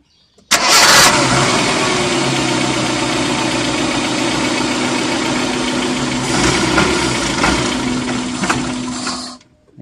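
Car engine with a D-EFI or L-EFI injection system cranks and fires, then runs at a steady, loud, close idle for several seconds before cutting off, with no talking.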